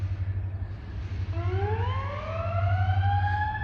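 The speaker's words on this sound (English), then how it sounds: "Oh, there's the ambulance on the run." An ambulance siren rises and wails in the distance over a steady low engine rumble, growing slightly louder.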